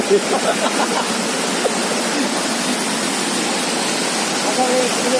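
Floodwater rushes steadily during Typhoon Dante, a broad continuous roar like a torrent, close and unbroken. A few faint voices sit briefly under the noise.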